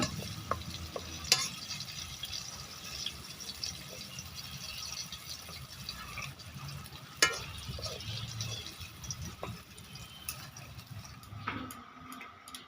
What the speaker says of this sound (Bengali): ভালোভাবে ভেজে যখন একটা গন্ধ বের হবে এটা ভাজাটা হয়ে গেছে